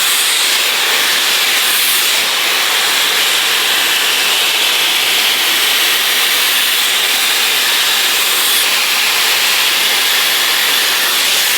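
A T3 Micro Aire 360 hair dryer blows in a loud, steady, airy roar that holds close and constant from start to finish, with no voices over it.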